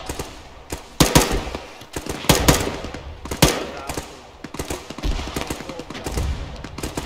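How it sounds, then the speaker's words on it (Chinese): Machine-gun suppressing fire in the military shooter ArmA, sounding as repeated bursts of sharp gunshots with loud close cracks and ragged rhythm over a steady rumble of battle. "边开火边推进，机枪开始压制"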